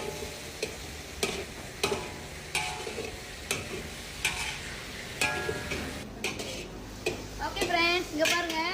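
Shallots sauté in a little oil with a quiet, continuous sizzle and regular spoon taps against the pan, and a voice speaks briefly near the end.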